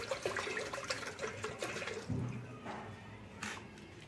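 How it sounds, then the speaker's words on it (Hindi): Water runs from a tap into a bottle being filled, a close splashing flow with shifting gurgles and a few clinks, ending with a softer trickle. "ये भर रहे हैं हमारी बोतल में पानी"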